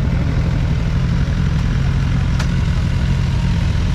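A motorcycle idles steadily near the listener, a continuous low rumble holding even throughout with no revs, probably alongside a Honda XR or an Aprilia Tuareg 660.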